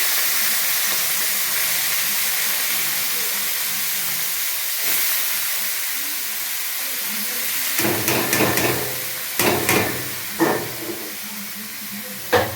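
Vegetables drop into hot oil and sizzle, a steady loud hiss that softens and then carries on under sharp clatters and stirring knocks near the end.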